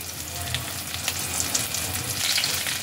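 Tapse fish frying in oil in a pan over a medium-low gas flame, a steady close crackling sizzle with scattered bright pops throughout, no voices.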